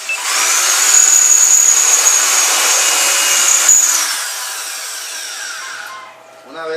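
Power drill boring a hole into a Malayo knife handle fitting, a loud continuous high whine lasting about six seconds before winding down, close and steady.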